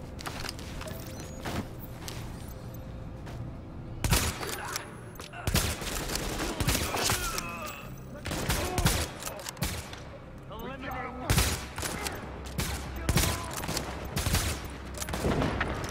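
Rapid gunfire with explosive rounds in the video game The Division, loud bursts and sharp shots recurring throughout amid game effects, with people talking over the fighting.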